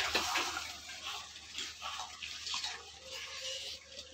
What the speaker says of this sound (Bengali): ভাজিগুলো সিদ্ধ করেছিলাম সেই জলটা বেশি আছে ওই জলটা এবার আমি দিয়ে দেবো